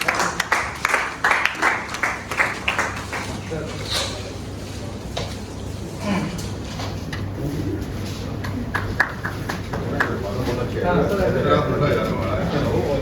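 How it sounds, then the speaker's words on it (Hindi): A crowd at a medical association leadership meeting gives a round of rhythmic clapping to welcome a doctor to the stage. The clapping is strongest at first, then thins under ongoing talk and a busy room. "ताली में जाके सभी लोग स्वागत करें।"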